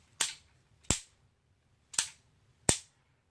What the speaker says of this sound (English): So what I am practicing is coming up out of that fire and deactivating that safety and firing at the same time.